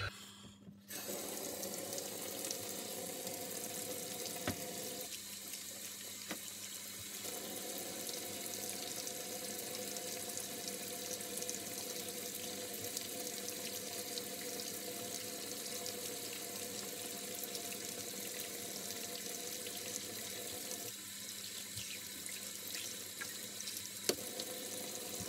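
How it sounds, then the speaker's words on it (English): Lukewarm tap water running steadily into a sink while a tube mod is washed with dish soap, a constant splashing hiss broken by two brief dips, close and without talk. "we're just going to give it a wash in some kind of lukewarm water, and I'm using just some washing up liquid or dish soap"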